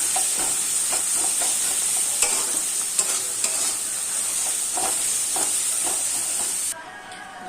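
Snails (gugli) and onions fry in a pan with ginger, salt and chilli powder, a steady loud sizzle with scraping stir strokes throughout, easing off sharply near the end.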